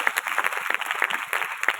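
Children in a church gathering clap loudly in praise, a busy crackle of many small hands with uneven sharp peaks, fairly close and continuous with no talking.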